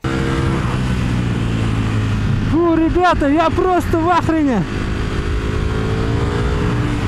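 A Ducati Panigale V4 motorcycle engine revs in a rapid series of loud, close throttle blips over a steady running drone, while someone speaks excitedly nearby.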